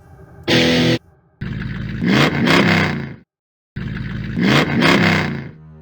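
A stationary car engine in the Mystery Case Files: Ravenhearst puzzle game revs hard twice in loud, roaring bursts, each rising then cutting off, after a short mechanical burst.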